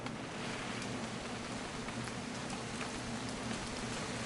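Steady rain falls in the game What Remains of Edith Finch, a dense, even hiss of drops on surfaces with a low rumbling bed beneath, constant and close throughout with no voices.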